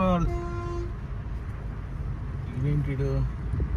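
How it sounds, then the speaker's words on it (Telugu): A state RTC bus passes on a road between Wanparthy and Gadwal, giving a couple of nearby horn toots over rumbling traffic. A voice speaks briefly at the start. "RTC bus"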